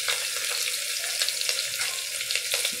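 Steady hiss and crackle of garlic frying in a hot pan for chana dal, continuous and close, with faint scraping stirs and no talking.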